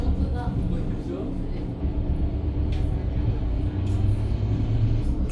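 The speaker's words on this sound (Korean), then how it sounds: "이제 열차가 왔던 방향으로 다시 돌아갑니다" The Setsugekka panoramic sightseeing train in Japan heading back the way it came: a steady low rumble of the running carriage heard from inside, with occasional faint clicks and a voice talking over it.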